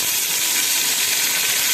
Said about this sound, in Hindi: अभी मैं पानी ऐड करूँगी